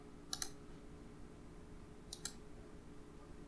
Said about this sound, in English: we're just going to double click on this link